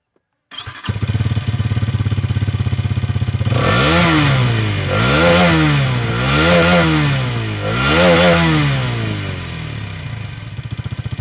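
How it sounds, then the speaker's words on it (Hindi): A 2025 Hero Xtreme 250R motorcycle engine idles with a deep, steady exhaust note, then revs up and back down three times in a loud, rhythmic pattern close by. "आपको इसका एग्जॉस्ट नोट सुनाता हूँ"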